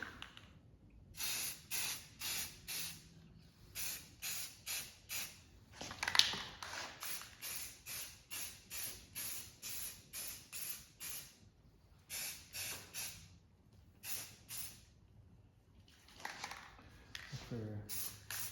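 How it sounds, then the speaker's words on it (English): Short bursts of aerosol primer spray hiss in a steady rhythm, many quick sprays one after another with brief pauses, close up and fairly quiet. "spray some primer."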